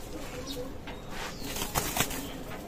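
Teddy pigeons of Oman bloodline, a running pair, make brief wing flaps and rustling movements at close range, with faint low cooing in the background.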